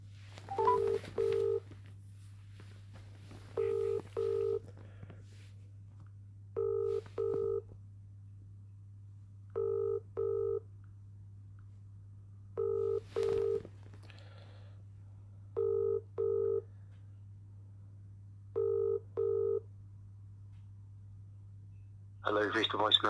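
Touch-tone keypad dialing on a phone call: eight evenly spaced pairs of short beeps over a steady low line hum, ending with the start of ringing or a voice at the very end.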